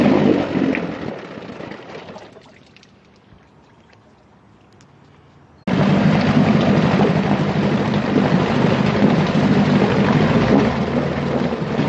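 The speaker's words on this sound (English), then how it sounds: "This motor pumps really good." Evinrude 9.5 HP Sportwin outboard motor, rescued from a scrapyard, running in a test tank: steady loud churning drone that drops away into near quiet, then returns abruptly at full strength and holds to the end.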